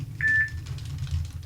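A phone gives a single short, clear notification beep over faint background hum, with no speech.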